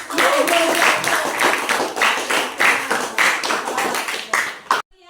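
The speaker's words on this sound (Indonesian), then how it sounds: "Tepuk tangan untuk kelas 9A." A school class of grade 9A students claps together after a lesson, a dense burst of many hands that runs steadily for about five seconds and cuts off abruptly near the end, with some voices mixed in.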